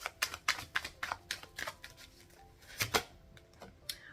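A tarot deck is shuffled by hand, making quiet, quick, crisp riffling bursts in an uneven rhythm, close up with no talking.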